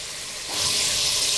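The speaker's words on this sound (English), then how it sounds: "and fry them nice and thoroughly" Tomato and sliced potatoes frying in a pan, a steady close sizzle that swells louder halfway through and holds as a dense hiss.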